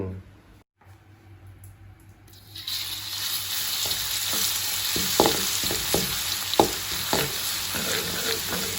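Oil sizzles steadily as torn white termite mushrooms are stir-fried with garlic and chili in a pan over a wood fire, with close spatula clacks and scrapes tapping irregularly through the hiss after a quiet start.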